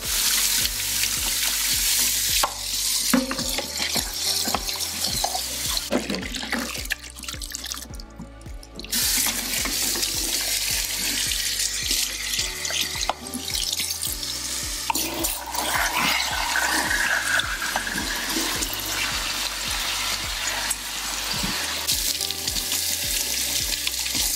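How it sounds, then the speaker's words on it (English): Parts from a Roborock robot vacuum are washed under a running sink tap, with loud, continuous rushing water splashing over plastic and occasional clattering handling noises, close by and without speech. "take this over to the sink and wash everything out"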